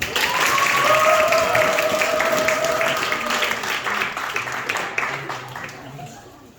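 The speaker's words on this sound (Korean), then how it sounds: "떨지 말라고 격려의 박수로 환영해 볼까요?" Audience at a middle and high school festival applauds to welcome student performers, a warm round of clapping that swells early then gradually thins, with a voice and tonal sounds layered over it.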